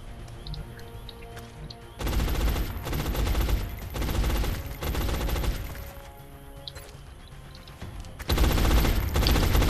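Bursts of suppressive automatic gunfire in the X-COM strategy game, loud sustained volleys in several long stretches separated by quieter gaps.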